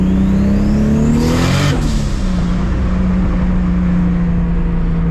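Toyota Supra MKIV turbo engine with a new wastegate spring and dump tube, heard from inside at night, a loud sustained engine drone that surges in pitch around the midpoint with a whooshing rush, then settles back.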